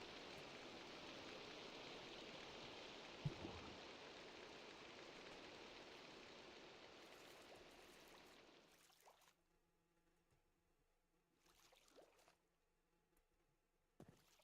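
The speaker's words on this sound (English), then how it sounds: "It's raining apparently." Steady rain hisses in a Minecraft modpack with airships, a dense even wash of falling drops that fades out about two-thirds through, leaving near silence with a few faint clicks.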